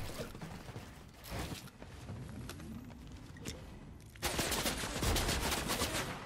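Gunfire and sniper shots in the video game Fortnite, as a dense continuous crackle of shots that turns louder and harsher for the final two seconds.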